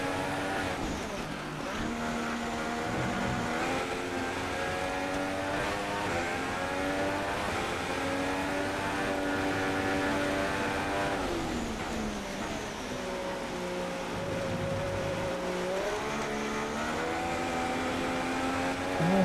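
A Formula One race car in F1 2016, on a final lap at the Canadian Grand Prix, with its engine whining steadily and pitch rising and falling through gear changes and corners, loud and continuous throughout.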